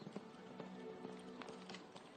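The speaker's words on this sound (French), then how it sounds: "Dernière répétition au galop avant le spectacle." Horses galloping in a rehearsal at Le Puy du Fou, a steady run of hoofbeats on the ground with a rolling clip-clop rhythm that holds at even loudness for about two seconds, heard without talk.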